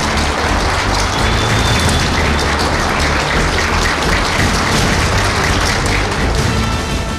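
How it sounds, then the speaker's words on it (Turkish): Audience applause filling a packed lecture hall as a guest enters, a dense, steady wash of clapping that stays loud and unbroken throughout, sounding close to rain. "Profesör Doktor Haydar Baş, alkışlar eşliğinde salona girdi."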